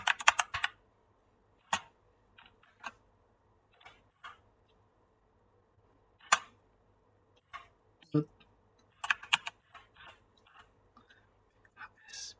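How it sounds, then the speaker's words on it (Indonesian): Typing on a computer keyboard at a Bash shell, scattered clusters of quick light key clicks with pauses between bursts, close and quiet against a near-silent room, with some soft whispery sounds mixed in. "Lalu saya mengetikkan lagi nano"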